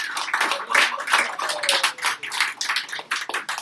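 Scattered applause from a small audience at a poetry hour in a San Francisco café, with uneven bursts of hand claps rising and dipping in short waves for several seconds and no talk over them.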